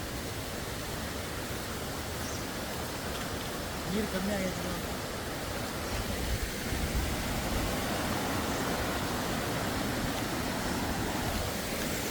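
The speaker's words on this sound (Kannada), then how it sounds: "ಕ್ರೇಜಿ ವಾಟರ್ಫಾಲ್, ಸಕ್ಕತ್ತಾಗಿದೆ" Waterfall beside the trail to Netravathi Peak in the Western Ghats, a broad continuous rushing wash of falling water, loud and close, with brief voices over it.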